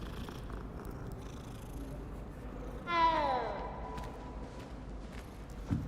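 A cat purrs faintly and steadily at close range beneath game music and ambient sound, with a short chirping meow midway.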